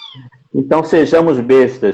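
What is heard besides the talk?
cats meowing at home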